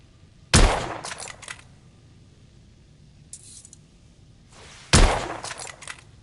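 Gunfire from The Order: 1886 arrives as two sharp, loud shots a few seconds apart, each trailed by brief rattling echoes, with a fainter burst between them over a quiet background.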